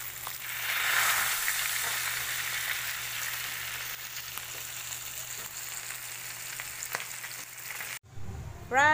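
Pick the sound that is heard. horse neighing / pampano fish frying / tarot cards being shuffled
pampano fish frying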